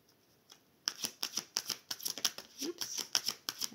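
Tarot cards being shuffled by hand: a quick run of crisp, papery riffles and flicks, close and fairly loud, starting after a short quiet lead-in and continuing steadily with no talking.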